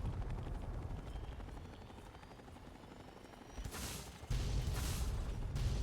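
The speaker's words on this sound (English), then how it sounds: "Interesting, that helicopter is indestructible." A helicopter in the video game Fallout 3 gives a steady whirring rotor drone that swells into louder, brighter rushing bursts near the end, with no talking.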